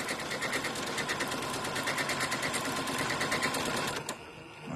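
A sewing machine runs steadily through decorative stitching on the bias edge of a fabric bath tea sachet, a fast continuous needle clatter at close range for about four seconds before stopping abruptly.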